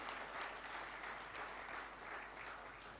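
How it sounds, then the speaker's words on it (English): A conference audience at the MSME Steel Conclave 2018 bursts into loud, dense applause that holds steady for about three seconds with no voices over it. "Can we have a thunderous round of applause for it,"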